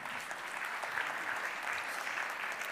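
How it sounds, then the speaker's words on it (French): Audience applause in a hall at an awards evening for a digital strategies festival, a steady dense wash of clapping held at an even level throughout with no voices on top. "On peut l'applaudir."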